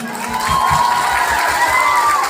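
Audience at a stage comedy show bursts into clapping and cheering, a dense continuous wave of applause with shouts that swells and holds for a couple of seconds.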